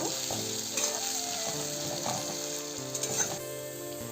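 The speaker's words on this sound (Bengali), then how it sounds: "আমি এখানে হালকা করে পেঁয়াজটাকে ভেজে নিয়েছি" Chopped onion frying in oil with whole cumin for a Bengali-style soyabean curry, a steady close sizzle with faint stirring scrapes running throughout.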